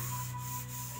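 A maple wooden door is sanded before varnishing, a steady, close rubbing abrasion with a soft, continuous texture and slight strokes, with no talking.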